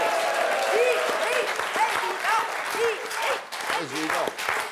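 Audience applause on a French television set follows a comedic presidential candidacy announcement, clapping running steadily beneath lively overlapping voices and cheers.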